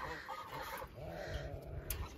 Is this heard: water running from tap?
no